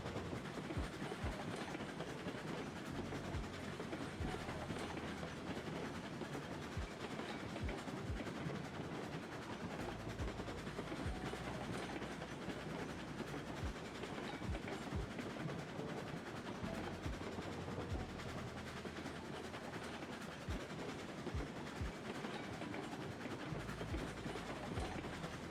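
A moving train heard from on board gives a steady, loud rumble throughout, with rhythmic clicking of the wheels over the rails and no talking.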